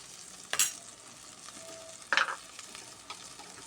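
Water lily stems with salt and turmeric being stirred in a pan, with two distinct scraping strokes of a spoon against the pan over a soft frying hiss, close and alone.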